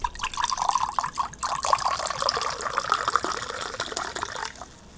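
Wine pours into a glass at a 4th of July gathering, giving a steady liquid gurgle and trickle that lasts several seconds before tapering off.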